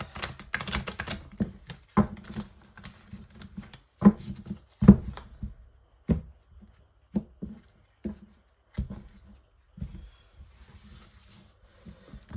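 Light Seers Tarot cards are shuffled and riffled close by in quick bursts of papery slaps and flutters, separated by short quiet gaps.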